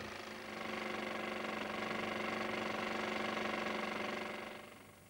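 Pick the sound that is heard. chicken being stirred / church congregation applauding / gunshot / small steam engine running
small steam engine running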